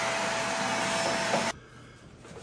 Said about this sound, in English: I'm gonna pull out the vacuum again now that I've kind of knocked it.